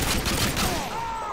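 Dense burst of gunfire in Call of Duty: Modern Warfare 2, loud rapid shots crowding together for about a second before trailing off.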